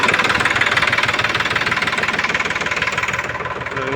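A farm tractor engine runs steadily at close range, its rapid knocking beat loud and even throughout, with no talk over it.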